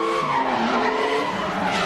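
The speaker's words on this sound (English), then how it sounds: "A lot of angle in the car and goes really deep into that first outside zone." Drift car sliding at high angle on the Okuibuki hill course, tires screeching in one sustained loud skid with engine noise beneath.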